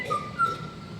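A thin, sustained whistled note from a Hawaiian honeyeater rises briefly and holds, soft and somewhat distant, over faint background hiss.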